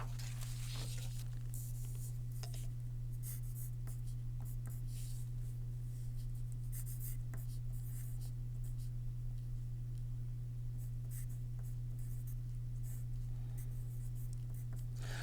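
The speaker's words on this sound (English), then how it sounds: "I'm going to write this next equation on a blank sheet" Pen writing an equation on a blank sheet of paper, faint scratchy strokes in irregular bursts over a steady low electrical hum, no voices.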